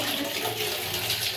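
Water runs steadily from the tap of a newly installed Hindware geyser, a continuous close splashing rush with no pauses.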